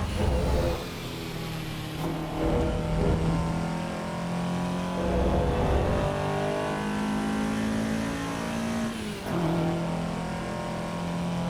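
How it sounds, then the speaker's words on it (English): A Toyota AE86 engine in the Assetto Corsa EVO racing game, revving up and down through repeated gear changes, with brief dips between pulls. Loud, steady and close, with no voices. "Maybe I should let the revs drop just a little bit more before I engage the next gear."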